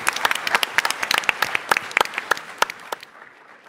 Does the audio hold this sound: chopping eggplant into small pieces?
no